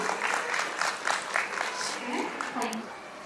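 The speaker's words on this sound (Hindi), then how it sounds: "जोरदार तालियां हो जाए हमारी प्यारी प्यारी मम्मियों के लिए।" Loud, continuous applause from an audience at a school event honouring the mothers, dense clapping throughout with a voice speaking faintly over it.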